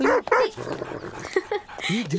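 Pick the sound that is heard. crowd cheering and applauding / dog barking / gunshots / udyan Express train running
dog barking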